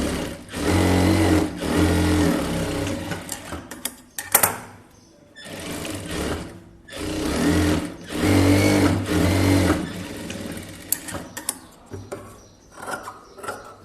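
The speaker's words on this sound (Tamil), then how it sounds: "அதுக்கப்புறம் நீங்கள் எத்தனை தையல் வேணுமோ அதை போட்டுக்கோங்க." A sewing machine runs straight stitching on blouse fabric in close bursts of whirring, a few seconds each, separated by short pauses and light handling clicks.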